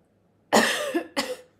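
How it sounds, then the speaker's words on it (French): Two close, sharp coughs with a brief gap between them, fairly loud against quiet surroundings. "j'ai envie de tousser."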